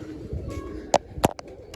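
A few short pigeon coos and calls sound near and fairly loud in a pigeon keeper's space where sick birds are being tended, over a low steady background hum.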